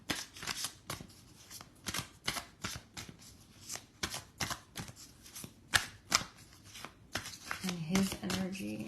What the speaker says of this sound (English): let's go ahead and shuffle the tarot